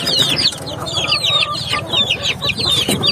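Chicks and chickens on a farm, including broiler chicks, clucking and peeping continuously, with many overlapping high chirps over a low cackle, close and fairly loud.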